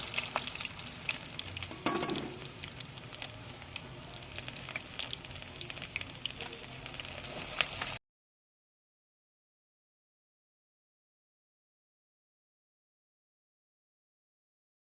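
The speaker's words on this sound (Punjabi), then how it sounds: "ਹੁਣ ਆਪਾਂ ਨੂੰ ਲਾਵਾਂਗੇ ਤੜਕਾ" Tadka for mustard greens saag crackling in hot oil, a busy close sizzle with scattered pops and a spoon knock for about eight seconds, then silence.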